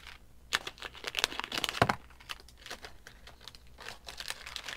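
Plastic packaging bags from a budget Kids Bricks Fun Park building set crinkling as they are handled and opened, with irregular close crackles and a few sharper rustling bursts, moderately quiet, with no talking.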